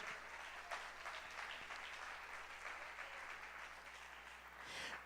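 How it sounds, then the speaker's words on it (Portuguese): A church congregation claps and applauds during a sermon, a continuous wash of hand claps that holds for the whole stretch at a fairly quiet level, with a low steady hum underneath and no speech. "Pode aplaudir o Senhor Jesus."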